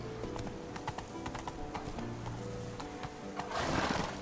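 A horse trots in The Witcher 3, its hooves clip-clopping in a steady, even rhythm with a neigh among them and a rush of outdoor noise near the end.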